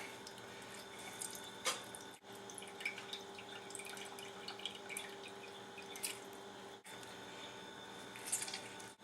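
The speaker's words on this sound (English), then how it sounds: "take the half I cut, and then squeeze it out" A lemon half being squeezed by hand for baba ghanoush, heard as a quiet run of soft squishes and scattered drips of juice falling close by, with a few sharper drops standing out.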